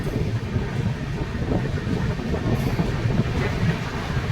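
Digha-Visakhapatnam Express running past Srikakulam Road station without stopping, a steady loud rumble of wheels and carriages with continuous rattling throughout.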